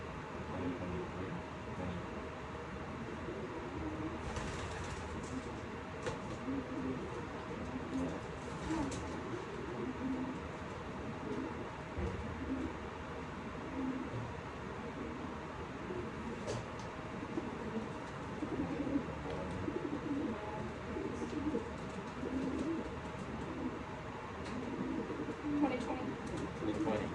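Pet pigeons being re-homed coo in soft, repeated low calls throughout, close by, under continuous background noise.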